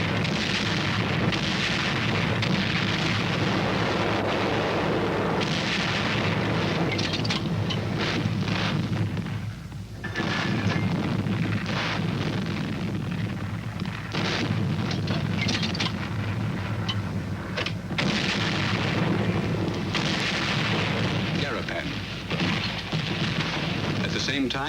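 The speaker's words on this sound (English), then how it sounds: "Army artillery goes into action." Army artillery fires during the WWII battle for Garapan on Saipan in the Marianas, a dense continuous roar of booms and rumbling blasts that runs throughout at a steady loud level, with a voice speaking over it.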